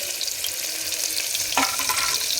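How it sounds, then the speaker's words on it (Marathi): Finely chopped onion frying in about two spoons of hot oil, a steady close hiss and crackle of sizzling with one brief clink of a spoon partway through. "1 छोटा कांदा आपण कट केला आहे बारीक, तो टाकून घेते."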